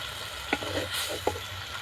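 Fried crab is stirred into spice paste in a pan, giving a faint steady sizzle with two sharp clinks of a spoon or spatula on the pan.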